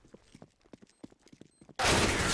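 Pistol gunfire in a Counter-Strike match on the Cache map during a LAN semifinal: a voice talks at first, then a sudden loud, harsh burst of shots fills the final half-second.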